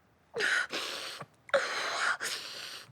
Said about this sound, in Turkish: Kızım burnundan al, ağzından ver hadi.